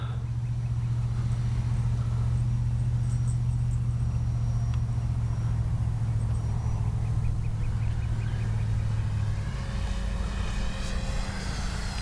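A Durafly 1100mm T-28 RC model airplane making a speed run, its steady electric motor drone humming continuously and fairly loud, holding a constant pitch before shifting slightly as it passes, with no talking.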